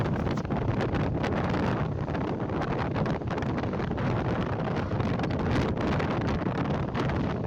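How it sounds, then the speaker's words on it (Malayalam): Strong wind during a ride, roaring and buffeting the microphone in a loud, continuous rush with gusty spikes throughout and no voices. "നല്ല കാറ്റുണ്ടായിരുന്നു കേട്ടോ."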